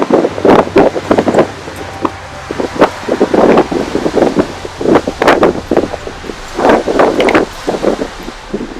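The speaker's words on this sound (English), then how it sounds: "God, it's windy out here." Strong wind buffets the microphone in loud, irregular gusts, roaring and rumbling with brief lulls between blasts, outdoors beside a VW Jetta hit by a fallen tree.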